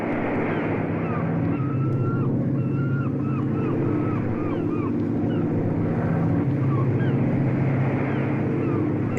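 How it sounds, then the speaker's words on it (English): Coast Guard search plane droning steadily overhead near a shoreline, a continuous low engine hum mixed with wind and water noise, with faint chirping calls scattered above it throughout. "It's a Coast Guard search plane."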